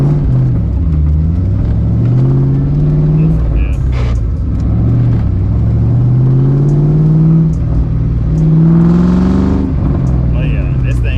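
A Ford Mustang with an Aviator engine swap drifts, its engine roaring loud and close as the revs rise and fall in long sweeps. Tire and drivetrain rumble runs underneath throughout.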